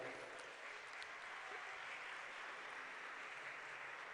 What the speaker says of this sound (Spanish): A todos ellos les damos desde aquí un caluroso aplauso